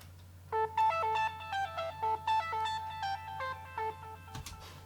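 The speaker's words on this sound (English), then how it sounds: "instead I decided to add a melodic synth part" A bright, bell-like synth melody plays a short bouncing phrase of repeated notes over a low steady drone, ending with a brief thump.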